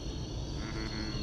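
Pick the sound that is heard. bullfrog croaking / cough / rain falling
bullfrog croaking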